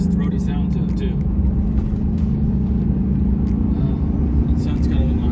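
2006 Hummer H2 SUT with a 6.0 Vortec V8 and four-wheel drive accelerating, its deep throaty engine rumble steady and close while someone talks over it.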